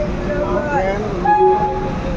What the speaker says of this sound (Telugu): Accident relief train.